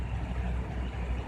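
A Lasko box fan, model 3733, set on low in a bedroom window gives off a soft, steady low whoosh and hum, faint and unbroken for the whole short stretch.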